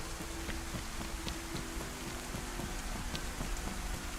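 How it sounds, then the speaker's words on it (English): Steady, loud rain falls in the survival video game DayZ, a dense and even downpour that continues without a break and with no voices over it. "is it me or is the rain really loud?"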